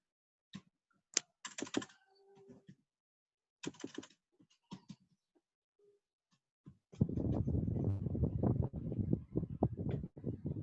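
Someone types on a computer keyboard in a word processor: scattered bursts of crisp key clicks with pauses give way to a dense, continuous run of fast typing close to the microphone.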